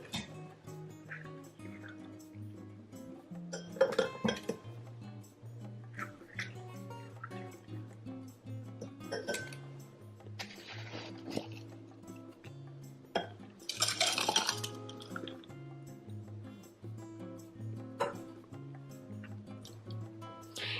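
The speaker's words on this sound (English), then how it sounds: "I'm gonna scoop out a few more of these little balls and put it inside the glass." Dragon fruit balls are scooped and dropped into a glass for a cocktail, giving repeated light clinks and scrapes of a spoon against glass with soft wet sounds and occasional louder taps. Gentle background music plays throughout.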